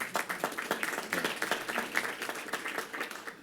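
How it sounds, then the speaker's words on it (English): Applause at a wine shop grand opening press conference, a steady wash of clapping from a gathered audience that holds at even loudness throughout, with a few sharper individual claps standing out. "Give yourselves a round of applause."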